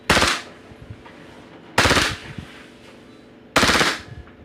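A Glock 18C airsoft toy gun fitted with a Roni kit fires on full auto in three short, sharp, rattling bursts, evenly spaced and close up, with quiet gaps between them.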